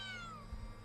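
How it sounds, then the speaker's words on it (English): A cat gives a single short, clear meow with a falling pitch in the Akko yandere love story video game, over a low steady background hum. "A cat? How did you get in here?"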